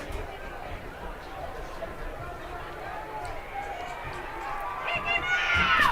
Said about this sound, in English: Can hear the crowd yelling to kick him out.